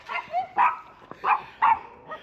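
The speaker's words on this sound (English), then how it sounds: "Look at all these doggies here." Several dogs bark in short bursts at a quiet caravan and motorhome campsite in autumn, five or so sharp yaps and woofs spaced irregularly, fairly close and clear, with a faint whimper between them.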